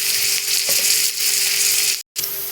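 Chopped onion and cumin seeds fry in a pan for a Marathi black-eyed pea and potato curry, giving a loud, steady, close sizzle that breaks off for a moment near the end.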